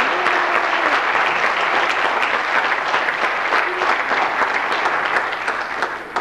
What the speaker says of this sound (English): Want to give them another applause?